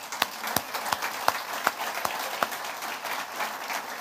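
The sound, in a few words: congregation applauding in church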